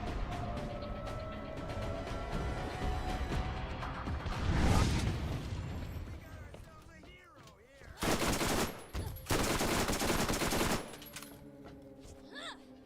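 Turrets in Borderlands hammer out bursts of rapid automatic fire, a long rattling stream followed by explosive impacts and two loud, dense volleys later on, with a character's voice briefly heard between.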